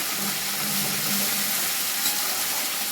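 Garlic, onion, ginger and chili spice paste fries in a pan with a dense, continuous sizzle and hiss. It is fairly loud and close, with faint scraping as it is stirred and no voices.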